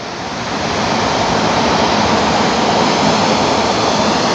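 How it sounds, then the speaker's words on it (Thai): A loud, continuous roaring rush builds up and holds steady as special express train 22 from Ubon Ratchathani arrives close by at speed. "มาแล้วครับกับขบวนรถด่วนพิเศษขบวนที่ 22 นะครับ"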